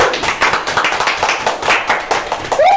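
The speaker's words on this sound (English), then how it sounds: "Clap for yourselves." A classroom of students claps for themselves during a lecture, a loose rhythm of hand claps running throughout, close and fairly loud, with a brief whistle-like tone near the end.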